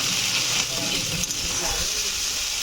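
Spices hit hot oil in a pan for a Bengali fish-head and pui shak dish, giving a loud, close, continuous hissing sizzle that fills the whole moment without pause.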